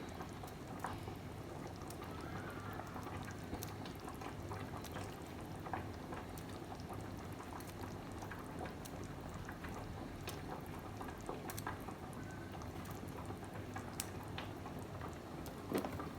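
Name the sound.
meatballs simmering in a pot of sauce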